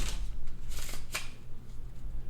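A deck of playing cards being shuffled close by for a poker game, a dense papery riffle with a few sharper flicks and a soft continuous rustle, with no voices.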